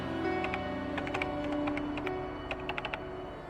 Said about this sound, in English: What exactly are you typing in there?